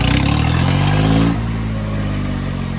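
A Swaraj 744 tractor diesel engine revs hard with a loud, throbbing low drone, then drops to a lower, steadier idle partway through. No talk is heard.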